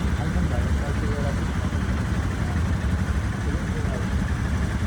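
Motorbike engines idling and running outdoors in a busy street, a steady low rumbling drone throughout with people talking over it.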